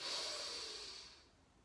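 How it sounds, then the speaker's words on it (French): A single slow, soft exhale during a deep-breathing yoga exercise, close and quiet, airy and fading out over under two seconds. "À votre rythme, prenez quelques respirations profondes."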